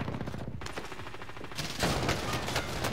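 Rapid gunfire from the video game Call of Duty Warzone: dense bursts of automatic shots crackle continuously, loud and close, with a brief lull before another heavy volley.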